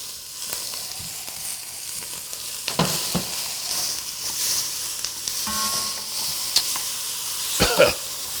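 Strips of fairly heavy bacon frying in a pan, a steady broadband sizzle and crackle with occasional louder pops and utensil clicks, no voices.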